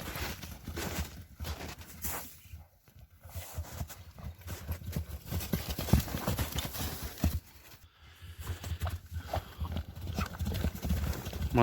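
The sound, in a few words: Orlov trotter horse galloping, hoofbeats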